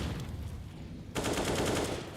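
Spammed rifle fire in a CS:GO professional match, a fast string of close, loud shots in rapid succession that swells into a denser burst partway through.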